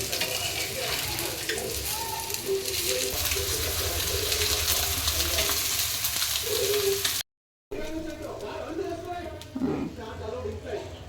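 Food frying in oil in a home kitchen pan gives a steady broadband sizzle for about seven seconds, then a brief cut and quieter frying with clinks and a voice talking over it.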